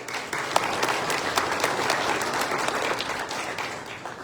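Applause from the audience at a candidates debate for a chamber of commerce, dense steady clapping filling the room for several seconds.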